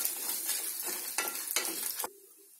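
Garlic, onion and dried red chillies sautéing in a pan for chutney, with soft steady sizzling and several scraping stirs of a utensil against the pan, fairly quiet and close, ending in a lower hiss.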